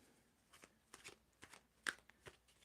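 Tarot cards shuffled by hand in a quiet room, a series of soft riffling bursts and sharp flicks at irregular intervals, close and fairly faint.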